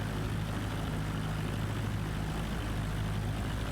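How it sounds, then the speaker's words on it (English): A small propeller plane engine in a flight simulator game drones steadily at high takeoff power, a constant loud buzzing roar with no pauses. "high engine power just to get the plane rolling"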